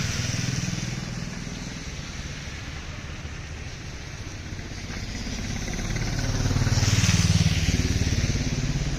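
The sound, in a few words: motorcycles of bikers riding on mountain road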